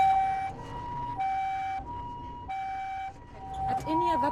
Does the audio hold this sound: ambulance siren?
yes